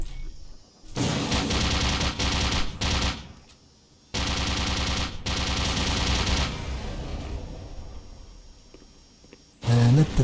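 Turret gunfire in Black Mesa's Xen on hard difficulty rattles in long, loud sustained bursts broken by brief pauses, followed by a sharp boom near the end.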